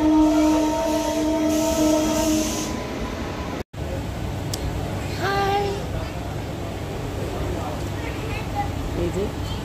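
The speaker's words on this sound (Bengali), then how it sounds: "এই যে ট্রেন ছেড়ে দিয়েছে," A passenger train moving off after departure: a continuous rolling rumble with a tonal whine early on, with people talking over the carriage noise.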